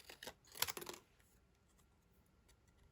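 Paper being cut with scissors during card making, a quick series of crisp snipping strokes close up in the first second, then near silence with a faint click at the end.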